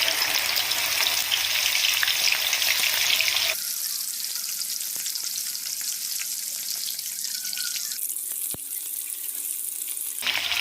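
Chana dal frying in hot oil, a loud, continuous bright sizzle that drops sharply in intensity partway through, then flares up again briefly before settling back.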